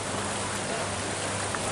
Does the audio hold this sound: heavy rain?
yes